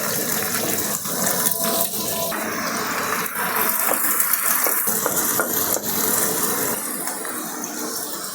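Chopped onions frying in hot oil with green chilies in a pan for a chicken fry, giving a steady, dense sizzle that stays loud and continuous throughout with no one talking.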